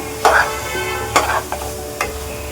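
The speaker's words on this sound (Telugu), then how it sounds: "నేను స్లోగానే మిక్స్ చేస్తున్నానండి" Prawn curry masala fries in a pan while a spoon stirs it slowly, giving a steady sizzle broken by three distinct scraping strokes against the pan, with no voice.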